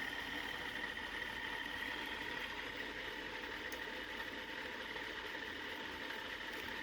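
A 3D printed solenoid motor runs steadily at around 2,500 RPM, giving off a faint, even mechanical whir and buzz that holds constant without pauses.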